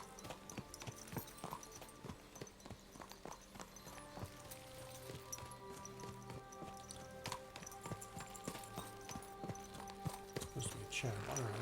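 A horse in the video game Kingdom Come: Deliverance 2 walks with steady clip-clop hoof beats in a faint, even rhythm, along with light ambient game sounds.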